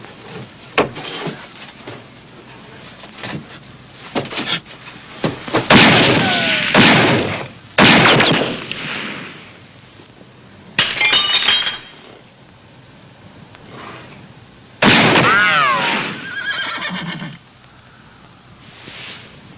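Sharp gunshots and shattering, tinkling glass burst out in loud irregular clusters as a gang shoots up a frontier town in a 1953 Western, with quieter gaps between the volleys.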